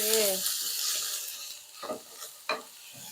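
Minced pork sizzles and is stirred in a hot pan with eggplant, with a continuous frying hiss and a few scraping stirs of the spatula toward the end.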